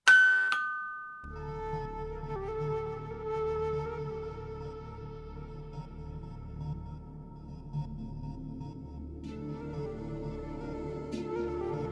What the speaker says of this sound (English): There comes a ring at the door